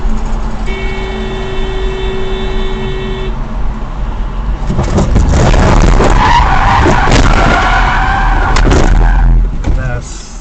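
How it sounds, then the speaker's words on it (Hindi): A sedan skidding and spinning after a truck strikes its right side on a highway, with loud tyre screech and crash noise building midway and holding for several seconds, after a tonal horn-like note earlier. "ये गाड़ी को राइट साइड से हिट कर देता है, जिसके बाद सेडान पूरी तरह से घूमकर इसके सामने आ जाती है।"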